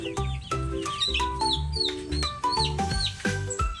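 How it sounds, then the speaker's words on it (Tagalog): Rhode Island Red chickens in a backyard flock cluck and squawk close by in a busy run of short, overlapping calls, with no one speaking. "Ito po ay Rhode Island Red, Future Rooster."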